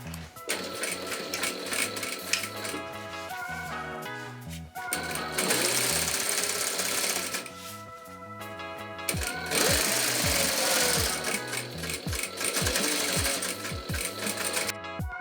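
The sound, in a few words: sewing machine stitching fabric for a bikepacking stem bag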